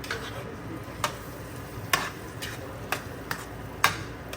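Dudhi halwa being stirred in a pan, a spoon tapping and scraping the metal at a slow regular pace, about once every second, over a faint hiss, close and fairly quiet, with no speech.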